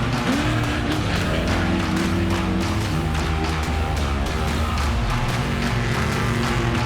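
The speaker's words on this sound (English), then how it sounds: "In the open desert on the way back into Hammertown, the trucks are wide open." T1 desert race trucks run flat out across an open lake bed at an off-road racing event, a loud sustained engine roar with continuous mechanical noise and no pauses.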